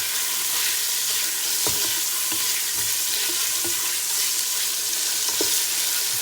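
Lamb pieces sizzle loudly and steadily as they brown in a hot pan, with a dense continuous crackle and a few sharper pops and scrapes, no voices.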